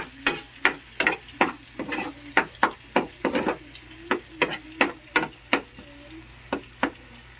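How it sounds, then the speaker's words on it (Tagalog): Corned beef being sautéed in a pan gives a quiet sizzle under a rhythmic series of sharp taps and scrapes from a utensil against the pan, close and evenly spaced. "Gigisahin lang po natin."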